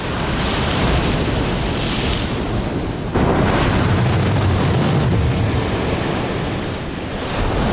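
Huge Pacific Ocean waves crash on the exposed coast of Cape Douglas, the westernmost point of the Galápagos Islands, a loud continuous roar of surf and wind with a fresh surge partway through, no voices.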